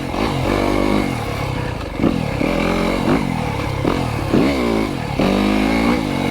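A 2025 Yamaha YZ250FX dirt bike is ridden in second gear, its engine loud and close, with the revs repeatedly climbing and dropping as the throttle opens and closes, and no voices.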